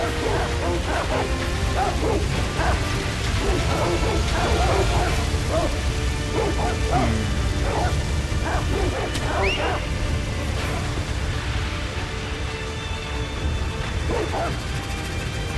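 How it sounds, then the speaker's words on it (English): Dogs in the video game Sekiro barking and yipping in a rapid, repeated run of sharp calls over constant loud background noise, with some speech mixed in. "Has to be an easier way to deal with these dogs."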